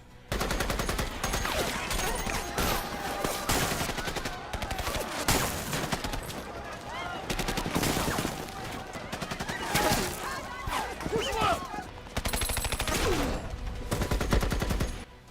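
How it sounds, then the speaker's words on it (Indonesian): Rapid gunfire bursts and single shots crack back and forth between snipers and drug cartel members in an action film, loud and dense throughout, with occasional voices and action-movie sound effects mixed in. "Akhirnya dari sini tembak-menembak pun tidak bisa dihindari."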